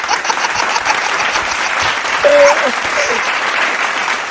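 Loud, steady applause from an audience welcoming an elderly woman singer onto the stage at a Chhattisgarhi comedy and variety show, with a few whistles cutting through near the middle.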